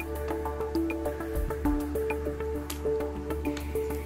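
Breaded chicken lifted from plain water drips back into it, a quick run of small wet plinks and squishy drops, close and fairly quiet.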